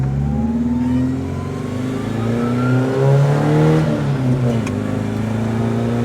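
A bagged minitruck's engine pulls hard while driving through a neighborhood street, a loud close drone rising steadily in pitch as it accelerates, with no talking.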